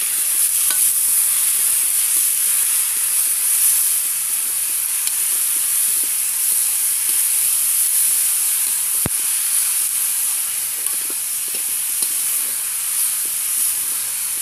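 Chicken frying in a pan over a wood-fired chulha while being stirred, a steady hissing sizzle with light intermittent scraping and one sharp click midway.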